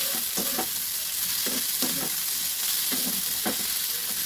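Spices fry in a pan before being ground to a paste: a soft, continuous hiss broken by regular scraping stirs about once a second, close and fairly quiet.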